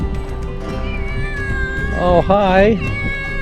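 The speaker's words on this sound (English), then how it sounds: "And a couple of more black kitties." Black cats meowing outdoors at ancient Mycenae in Greece, a couple of drawn-out, wavering meows close by, with a person greeting them briefly over the sound.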